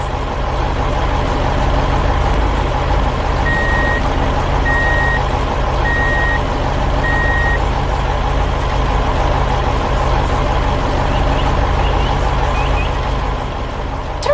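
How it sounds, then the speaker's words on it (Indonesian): A heavily loaded truck in a 3D animated scene rumbles steadily along a road with a constant engine drone, and a series of four evenly spaced reversing-style beeps sounds early on. "Truk itu melaju dengan mantap, membawa beban berat kembali ke arah jalan tadi."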